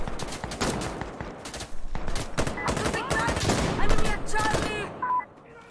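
Gunfire in the video game Insurgency Sandstorm: loud, rapid automatic bursts and overlapping shots filling the scene, with a player talking over them.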